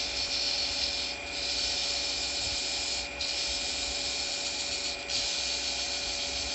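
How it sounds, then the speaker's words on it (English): Sandpaper rubs against a wooden Christmas tree ornament spinning on a lathe, a steady close abrasive hiss over the motor's hum, briefly dipping three times as the paper lifts and returns. "Just keep that sandpaper moving."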